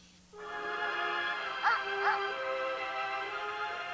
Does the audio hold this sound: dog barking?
yes